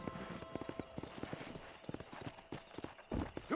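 Horse hooves clip-clop steadily in the Red Dead Redemption video game while riding, a brisk rhythmic run of close, evenly spaced hoofbeats that swells louder near the end.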